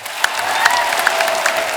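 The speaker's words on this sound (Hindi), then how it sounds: "जोरदार तालियां एक बार हो जाए।" Studio audience applause on a Hindi comedy talk show, a dense steady wash of clapping with a few sharper claps poking through, sustained for the whole stretch with no voices.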